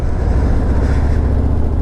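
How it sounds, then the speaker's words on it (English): A 2017 Harley-Davidson Milwaukee-Eight motorcycle engine revs continuously with a loud, steady low rumble and gusts of wind noise, the pitch rising and holding throughout. "it's very quick revving the bike"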